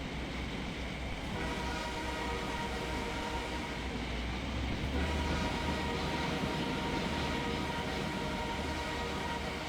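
A train rumbles steadily in the Trainz railway simulation game, its continuous low engine drone and rolling wagon noise filling the whole stretch at an even level with no talk over it.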